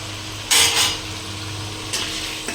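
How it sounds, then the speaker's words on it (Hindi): Sliced pointed gourd (parwal) frying in a pan, a low steady sizzle broken by two sharp bursts of utensil scraping and stirring, plus a faint hum underneath. "ज़्यादा टाइम नहीं लगेगा परवल को फ्राई करने में।"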